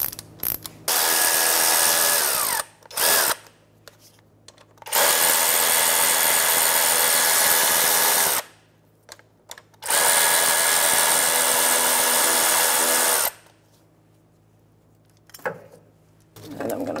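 An impact tool with a 13 mm socket loosens the three air pump mounting bolts on a 2005-2010 Chevrolet Cobalt in three loud sustained whirring bursts, with short ratchet clicks and quiet gaps between them.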